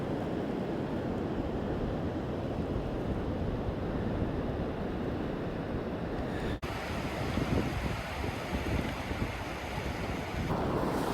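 Waves break steadily on a Northumberland beach during spring surf fishing, a continuous roar of surf mixed with wind buffeting the microphone, with one sharp bump partway through and no voices.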